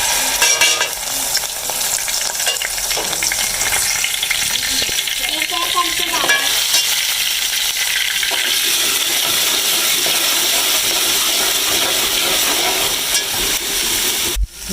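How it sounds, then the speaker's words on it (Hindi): Ginger garlic paste frying in a pan with browned cumin and onion for Punjabi aloo methi, a loud continuous sizzle and hiss with stirring scrapes throughout, no talking. "अब हम इसमें अदरक लहसुन का पेस्ट डालेंगे।"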